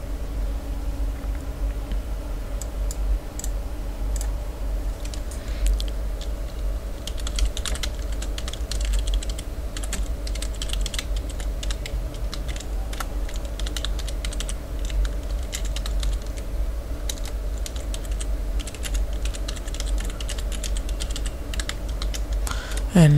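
Steady, continuous keystrokes on a computer keyboard while a short Python script is typed, running over a low constant background hum with no one speaking.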